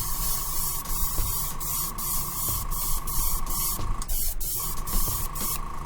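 Clear lacquer spray-coated onto a Rey's blaster prop in a workshop, a steady airy hiss running throughout with a constant electrical hum underneath and a brief dip near the end, no talking.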